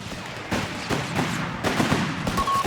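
Rifle fire from the strategy video game Company of Heroes 3 comes in several sharp overlapping volleys over a constant battle-noise background. The shots are moderately loud and there is no speech.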